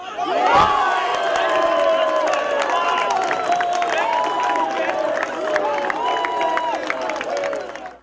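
Saints football fans roar and cheer as their striker Chinua Bernard heads in the opening goal, a loud sustained crowd din with shouting voices throughout.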